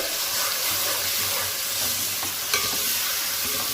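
Tomatoes fry in a pan with browned onion, garlic and ginger for chicken biryani, giving a loud, continuous sizzle with occasional stirring scrapes close by.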